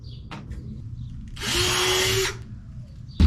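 Power drill boring a pilot hole through thick metal in a box truck camper wall build, a steady whining burst lasting about a second, close and loud, with light handling clatter before and after.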